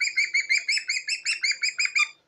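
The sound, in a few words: talkative parrot chattering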